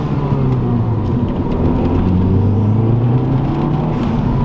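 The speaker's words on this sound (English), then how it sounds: "You can hear the turbo." Saab turbo engine revving with a blow-off valve and cold air intake, a loud, close drone with rising and falling engine pitch and a faint turbo whir above it.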